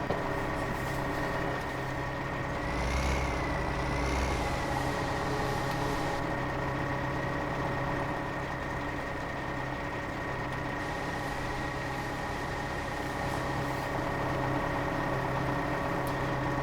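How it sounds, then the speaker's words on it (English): A tractor engine runs steadily in Farming Simulator 2015, a constant droning hum with a slight swell partway through, unbroken and without talk. "So we'll turn that tractor off."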